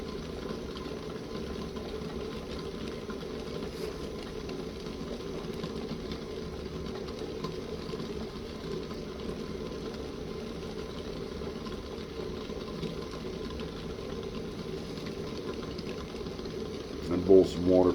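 Water boils over a small Jetboil-style knockoff camp stove cooking eggs, with a steady close roar of burner and bubbling that holds evenly throughout, plus a brief clatter at the end.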